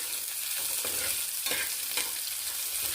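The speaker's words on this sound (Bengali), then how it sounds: "পেঁয়াজটা ভেজে নেব।" Sliced onion sizzles and crackles in hot oil in a pan, with a steady frying hiss broken by stirring scrapes every half second or so; no voices.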